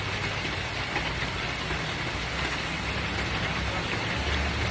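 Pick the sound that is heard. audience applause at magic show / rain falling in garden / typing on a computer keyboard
rain falling in garden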